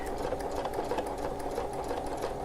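Sewing machine stitching a quilt circle around a template, heard as a dense, continuous motor whir with rapid needle clatter, close and steady, with no talk.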